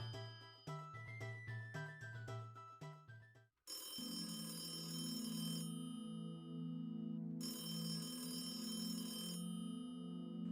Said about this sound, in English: Yeah, sounds like a telephone ringing.